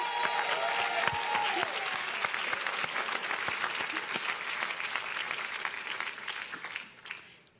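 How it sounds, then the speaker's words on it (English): A class cheers and applauds at Harvard Alumni Day 2022, dense clapping with a few whoops that stays steady before fading away at the close. "that's her class cheering right there"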